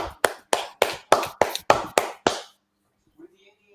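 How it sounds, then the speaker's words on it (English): Eight sharp, evenly spaced hand claps ring out alone in a slow, deliberate rhythm at moderate volume, followed by near silence with a faint voice at the end. "let's have a big round of applause once again for our healthcare heroes and our frontline workers during this crisis"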